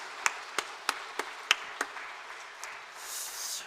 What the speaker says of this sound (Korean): 우리 따뜻한 박수로 그분들의 고마움을 기억하겠습니다